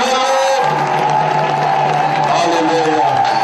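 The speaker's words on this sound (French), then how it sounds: "J'aimerais entendre vos acclamations" A church congregation cheers and acclaims the Lord with a loud, sustained roar of many voices. Shouts and whoops rise above it, and the noise holds steady from start to finish.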